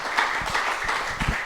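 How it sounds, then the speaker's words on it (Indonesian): A church congregation at a Sunday service held in a rented hotel hall claps together in a brief burst of scattered handclaps, moderately loud. "tepuk tangan lebih dahsyat lagi sama-sama buat Tuhan"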